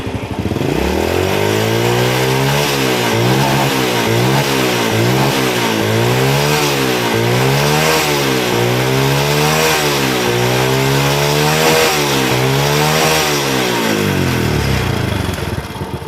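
Carbureted motorcycle engine revved repeatedly after carburetor tuning, a loud close blipping rise and fall in quick rhythmic bursts over a steady idle, no talk.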